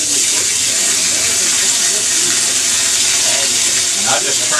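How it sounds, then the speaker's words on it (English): Water from a garden hose on strong city mains pressure pouring into a 2000 Sears Kenmore washing machine, a loud steady rushing splash that holds constant throughout, with no talk. "We've got very strong water pressure from the city supply now."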